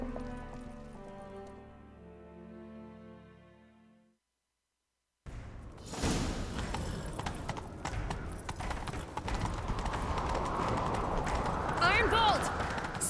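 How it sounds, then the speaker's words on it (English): Rapid galloping hoofbeats in The Witcher 3: Wild Hunt on PlayStation, loud and continuous after a brief silence, layered with music and effects, with voices over the action. "Grab a horse, we'll chase him down."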